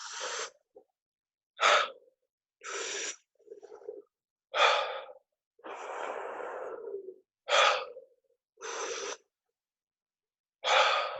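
Wim Hof style deep breathing, with forceful inhales and exhales in separate bursts of about one second, some longer, close to the mic and alone, with silent gaps between them.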